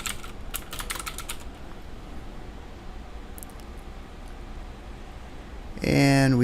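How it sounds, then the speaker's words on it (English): Clicks from a computer keyboard come in a quick cluster at the start, then a few isolated taps, close and fairly soft, before a voice begins speaking at the end. "So I'm just going to type in application form."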